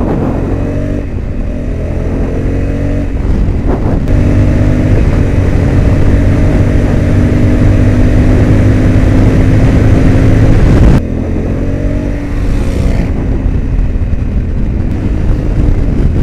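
A 2021 Honda Africa Twin motorcycle on a race track, its engine roaring loud and steady throughout with shifting pitch as it accelerates and changes gear, a brief drop near the end before the revs climb again.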